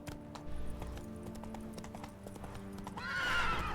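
A horse gallops in the video game The Witcher 3, rapid hoofbeats drumming steadily and close under background music, ending with a loud whinny.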